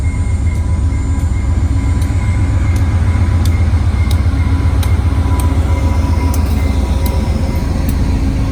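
A Via Rail passenger train, number 919 in a 40th anniversary livery, arrives at a station with a steady, loud low rumble and rolling wheel noise throughout, plus faint repeated high ticks of wheels crossing rail joints.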